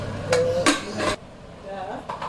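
A metal lid clatters onto a cooking pot in a home kitchen, two sharp ringing clanks close by, followed by quieter shuffling with faint speech.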